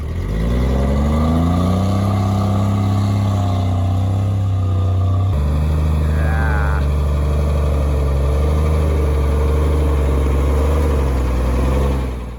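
FUSO van engine running loudly close by, a steady low diesel drone that shifts in pitch as it revs and settles, continuous throughout with no talk.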